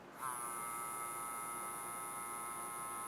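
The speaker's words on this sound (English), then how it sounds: "Here's the clipper." A Royal Clips Fade Kit 2.0 electric hair clipper switches on and runs with a steady, high-pitched motor buzz, close and fairly quiet, with no voices.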